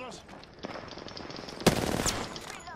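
Gunfire in the video game Apex Legends: rapid shots crackle at moderate volume, with a louder burst near the middle, amid background game effects.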